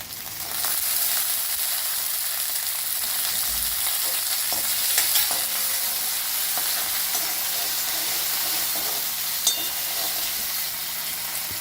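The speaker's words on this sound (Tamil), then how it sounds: "இப்போ இந்த பச்சை சுண்டைக்காயை இதில் போட்டு நல்லா வதக்கிடணும்" Green turkey berries sauté with ginger and chillies in a pan, a steady close sizzling hiss with occasional stirring clicks and scrapes, no voices.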